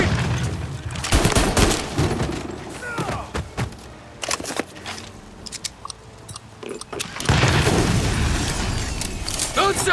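A grenade explosion and gunfire in the video game Mafia Remake: a run of sharp shots and booms, a quieter stretch with scattered bangs, then a loud sustained blast and roar near the end, with shouted voices.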